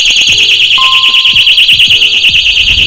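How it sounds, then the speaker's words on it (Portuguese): A motorcycle disc lock alarm, set off by knocks, wails continuously, a piercing, loud warbling electronic tone that repeats rapidly, with a few faint knocks and clicks underneath. "Agora vai disparar o alarme, ó."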